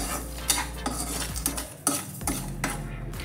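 Sugar being stirred in a pan for making tea: repeated metallic scrapes and taps of a spoon against the pan at an irregular rhythm, close by, over a low hum, without speech.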